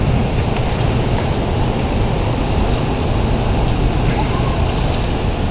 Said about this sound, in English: Shielding it from incoming rain.